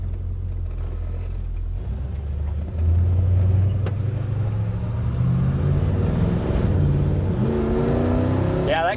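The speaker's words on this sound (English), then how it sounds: "That kick down really helps. Yeah, Chirps the tires going into second." A 1967 Chevrolet El Camino kicks down and pulls hard, its engine note rising and climbing in pitch before a brief tire chirp on the shift into second, loud and close throughout.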